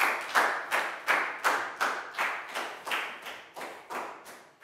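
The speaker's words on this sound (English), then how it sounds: "High five and a big round of applause for Pangpon." A small classroom group claps in a steady rhythm of about a dozen sharp beats, near and moderately loud, with no talk.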